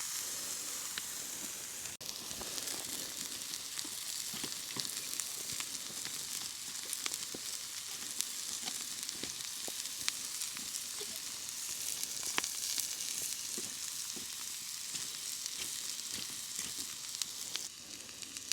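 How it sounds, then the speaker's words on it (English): Meat searing over a campfire during winter truck camping, a steady close sizzle with faint pops and crackles running throughout, no voices. "That should sear up pretty quick."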